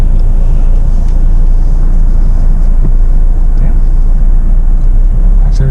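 A Jeep Meridian climbing an off-road slope under constant low-rpm acceleration, heard as a loud, steady low engine drone with wind and rumble, and no voices.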